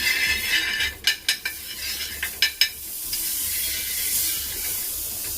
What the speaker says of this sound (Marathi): आता टाकते मी थोडंसं बटर